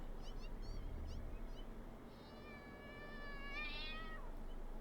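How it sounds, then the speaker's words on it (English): A creature in the video game Satisfactory gives a crazy, unsettling cat cry: a few short chirps, then a long, rising and falling wavering meow, fairly faint over a low ambient background hum, without speech. "And the cats make a crazy cat noise, and it's also pretty terrifying."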